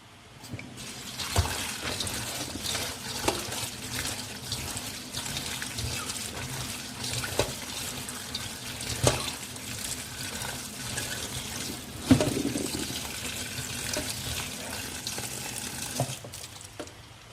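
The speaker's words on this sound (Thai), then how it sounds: "แล้วเดี๋ยวเราจะไปล้างน้ำครับ" Running tap water splashes and trickles into a sink while fresh bamboo shoots are washed under it, a steady close rush broken by occasional clunks and handling sounds, with no talking.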